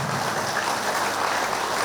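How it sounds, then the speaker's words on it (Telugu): An audience at a Sunday gathering in Nizamabad claps in a dense, even burst of applause for a woman being thanked, continuous and fairly loud. "మేడం గారికి ఒకసారి గట్టిగా చప్పట్లతో మనం అందరం ధన్యవాదాలు తెలియపరచాలా"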